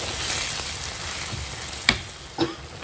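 Gravy with boiled field beans cooking in a pot, a continuous close frying hiss with a couple of sharp spoon taps near the end.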